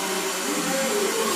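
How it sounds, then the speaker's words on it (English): A hair dryer runs steadily close by through a weekend morning, a continuous loud whirring blow with a faint tonal whine, no voices over it. "that hair dryer is annoying"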